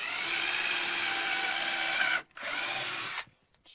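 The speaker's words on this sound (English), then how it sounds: "I'm going to pre-drill a couple holes here for where the screws are going to go" A power drill runs steadily for about two seconds while pre-drilling screw holes through a wooden board, stops briefly, then whirs again for roughly a second before cutting off, loud and close with no talk.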